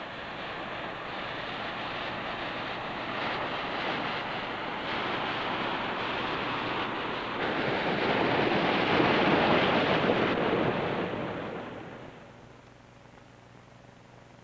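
Bay of Fundy tidal bore wave front surging up a river above Moncton and turning at a bend toward the opposite bank, a steady broad rushing roar that swells louder in the middle before easing off, with no voices.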